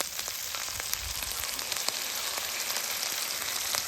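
Spice paste cooked with coconut milk for a ridge gourd and egg curry fries in a pan, giving an even, close sizzle with scattered pops and light stirring scrapes, no voices.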